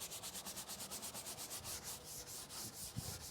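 A stiff brush scrubs the engine bay plastics of a car during a deep clean, giving a steady, rhythmic back-and-forth rubbing of about four strokes per second, close and fairly quiet, with no voices.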